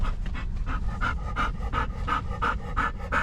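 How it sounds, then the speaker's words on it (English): Several excited dogs pant rapidly and rhythmically, a quick series of close, loud breathy huffs in steady succession with no talking. "The dogs are excited."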